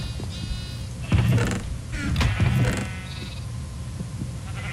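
Sheep bleat a few times in Minecraft, with a couple of louder bleats in the middle over a low background hum.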